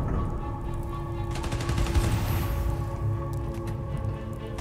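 Gunfire in the Spider-Man: Miles Morales video game, a steady rattling barrage of shots running throughout over a constant game soundtrack drone, with no talk.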